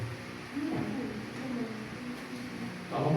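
A pigeon or dove coos softly indoors in a school meeting room, a low repeated murmur running under nearby talk and room noise.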